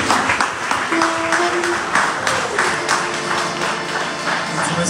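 Applause from a concert audience greets a policeman who sings, steady dense clapping through the whole stretch with some murmuring voices underneath.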